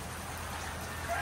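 Steady rain falls at a gamefowl farm in Maragondon, Cavite, a soft continuous hiss of drops on surfaces that swells slightly near the end.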